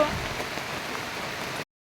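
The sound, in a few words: heavy rain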